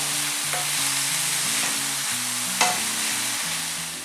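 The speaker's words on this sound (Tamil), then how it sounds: "இப்போ இது ரெண்டுத்தையும் வந்து நல்லா வதக்கணும், நல்லா கொஞ்சம் ப்ரௌன் ஆகணும்." Onions sizzle and fry steadily in a pan for chicken samosa filling, a close continuous crackle with a sharp stir or utensil knock near the middle.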